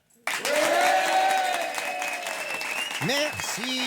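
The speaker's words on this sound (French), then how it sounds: "messieurs, dames, je vous demande de lui faire une ovation, s'il vous plaît" A theater audience breaks into an ovation for Yvonne, with sudden loud, sustained clapping that swells and holds while music plays over it and a voice speaks near the end.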